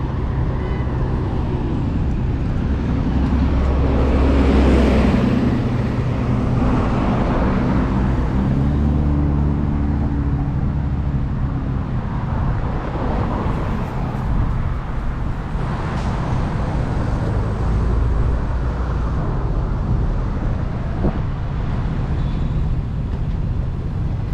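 Cars and buses idle and crawl in a traffic jam in Johor city, with a steady rumble of engines and road noise and occasional louder passing vehicles.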